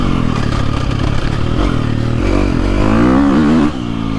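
A KTM 350 SXF dirt bike ridden hard on a motocross track roars loud and close, its engine revving up and down with rising and falling pitch and some clatter.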